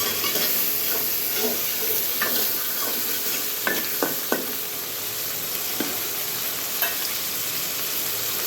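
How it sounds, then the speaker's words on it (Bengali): Loitta fish with chilli is stir-fried in a pan, giving a steady sizzle with occasional scraping spatula clicks. "তো দেখি লটকা মাছটা কষানো হয়ে যাচ্ছে, মরিচটা"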